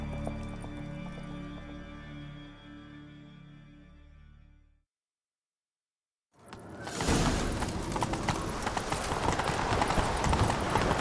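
Horse hooves gallop in The Witcher 3 video game. Music plays, then cuts to a brief silence, and a loud, steady rush of galloping follows and holds to the end.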